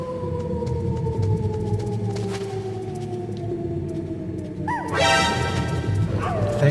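A dog barks sharply twice in Metal Gear Solid, sounding an alert, loud over a steady droning game soundtrack with tonal hum.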